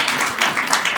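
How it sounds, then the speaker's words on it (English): A comedy show audience gives a short burst of clapping, a brisk, fairly close patter of many hands lasting about a second. "Round of applause."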